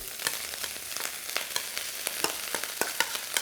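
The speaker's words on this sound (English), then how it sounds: "that last bit of oil in the wok, your rice goes in" Rice frying in oil in a wok gives a steady, close sizzle broken by frequent crisp ticks and scrapes of stirring, with no one talking.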